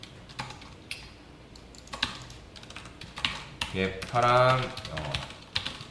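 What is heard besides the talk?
typing on a computer keyboard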